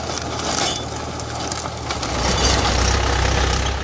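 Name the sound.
tractor driven over a cabbage field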